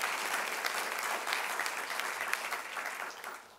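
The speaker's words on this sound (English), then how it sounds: "So join me in a round of applause." Audience applause at a philanthropic leadership forum's opening remarks, a sustained round of clapping that holds steady, then tapers slightly at the end, heard at moderate distance.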